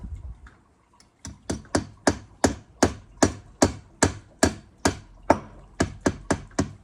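Steady hammer blows drive screws into drilled masonry in a regular rhythm, about a dozen sharp, close metallic bangs after a brief pause, with no talking.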